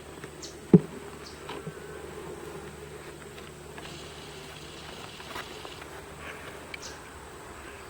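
A soft, steady buzzing of honey bees at a hive drones throughout, close by, with a single sharp tap near the start and faint rustles.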